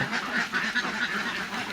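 Laying ducks on a farm quack in a busy flock, with overlapping nasal calls coming in quick bursts, fairly close and with no talking.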